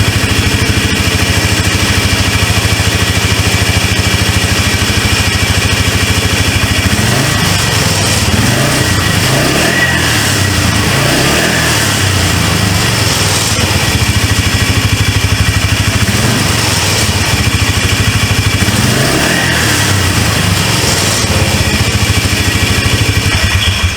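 A 2004 Polaris Trail Boss 330 ATV engine running steadily after a repair, a loud, close, continuous buzzing drone with slight rises and falls in tone throughout and no voices.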